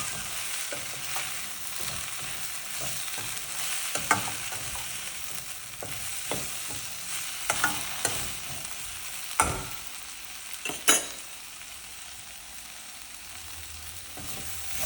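Okra frying in a pan with a sprinkle of salt while being stirred, a steady background sizzle broken by repeated scrapes and knocks of the spoon against the pan, with a few sharper clacks near the end.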